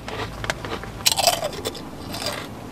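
Close, loud crunching of crisp kettle-cooked chips being chewed, a burst of sharp bites followed by softer scattered crunches.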